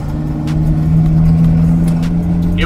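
Jeep TJ with tuned coilovers and hydro bumpstops driving on a road, a steady loud engine drone with road rumble heard from inside the vehicle, no talking.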